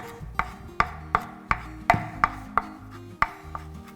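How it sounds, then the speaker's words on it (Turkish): A knife finely chopping folded parsley on a board: about ten crisp, close taps in a fairly steady rhythm, with no talking. "şöyle iyice katlayıp ince ince kıyarak kullanacağınız miktar kadar"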